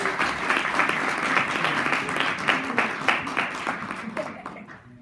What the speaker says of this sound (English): Let's clap hands for MJ Wa Azania